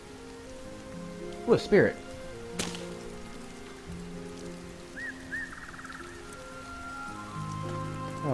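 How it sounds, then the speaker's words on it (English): Rain falls in the video game Sky: Children of the Light as a steady soft patter beneath chiming musical game tones, with a brief spoken exclamation near the start. "Yeah, the rain does hurt us."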